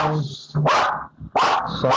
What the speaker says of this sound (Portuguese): não reparem os latidos aqui